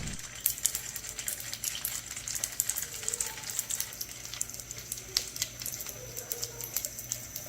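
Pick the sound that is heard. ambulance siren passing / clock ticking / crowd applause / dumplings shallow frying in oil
dumplings shallow frying in oil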